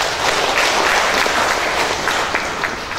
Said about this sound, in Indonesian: Kenapa ibu tepuk tangan?